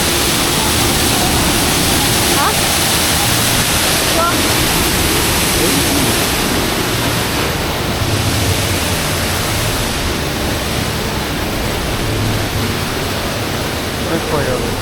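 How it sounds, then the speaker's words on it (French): Waterfall cascades at the Universal theme park make a steady, loud broadband rush of falling water that lasts throughout, with only faint crowd voices underneath. "Les cascades."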